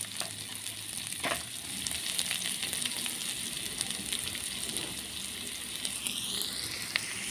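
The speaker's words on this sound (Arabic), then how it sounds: "هننزل بالبصله زي ما انتم شايفين كده، هنفضل نقلب فيها لحد ما تدبل بس" Chopped onion sautés in a pan as the base for chicken liver and gizzards, giving a steady close sizzle throughout with occasional scraping stirs of a utensil.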